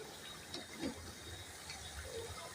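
Water poured into a karahi of cooked mash lentils with chicken, a soft steady gush close by with faint clinks and no talking.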